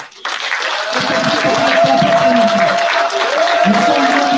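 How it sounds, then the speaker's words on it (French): An audience in a hall at a museum presentation breaks into applause and cheering, a loud sustained crowd roar and clapping that starts abruptly, with voices over it. "Est-ce qu'on peut apporter l'acclamation de cette nation?"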